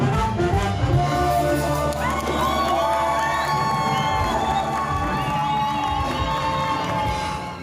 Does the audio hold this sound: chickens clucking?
no